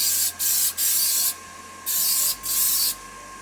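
Aerosol spray paint coating a wooden tray, several short hissing bursts separated by brief pauses, close and steady, from a can nearing empty.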